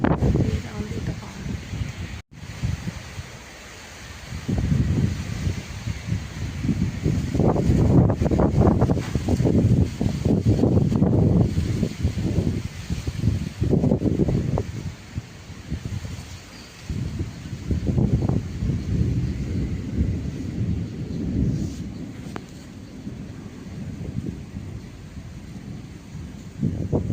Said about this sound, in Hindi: ये देखो तेज़ आंधी तूफान, बारिश पता नहीं होती कि नहीं होती है।